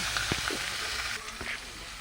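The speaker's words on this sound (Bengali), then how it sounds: "এবার আলুর সঙ্গে এগুলোকে আর একটু ভালো করে ভেজে নেব" Potatoes being fried in a pan with chopped tomato, green chili and onion: a continuous close sizzle with a few soft stirring knocks, no talk.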